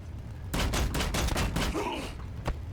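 Squads trade fire in the Warhammer 40000 Battlesector video game, Orks against Necrons, with a rapid volley of gunshots clattering in quick succession, then a lone closing shot.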